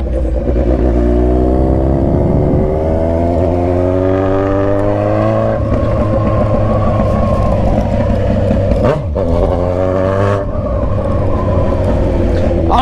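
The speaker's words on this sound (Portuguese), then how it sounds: "mas acho que é a minha moto mesmo." A Kawasaki Z900RS motorcycle with an Atalla 304 stainless steel exhaust pipe, ridden through traffic, gives a loud, steady engine drone with rising and falling revs and a couple of brief dips, close to the recorder.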